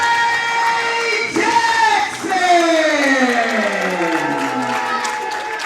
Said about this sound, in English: Crowd showing their love and support for Faye Jackson.